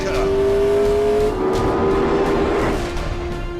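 A McLaren P1 hypercar pulls hard at full throttle on a wet, rainy road, its engine holding a loud sustained drone that steps up in pitch, with tire and road noise close by.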